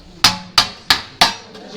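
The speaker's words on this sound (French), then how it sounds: "on met la forme avec 2 marteaux comme ça en bois" Two wooden mallets strike in turn to shape a piece in a Fès workshop, Morocco: four sharp, evenly spaced knocks, loud and close, each ringing briefly before the next.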